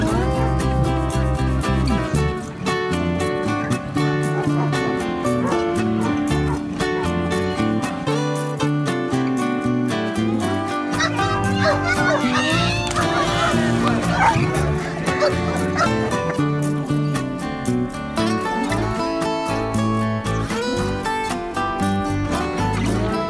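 Dogs at a dock jumping event at a water park: barks and yips ring out over loud, continuous background music and crowd noise, dense and close throughout.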